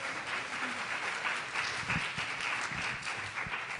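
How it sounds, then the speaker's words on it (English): Audience applause at a meeting of women leaders in emergency medicine, dense continuous clapping held throughout at a steady level, with a few sharper individual claps standing out. "Can we have a round of applause, please?"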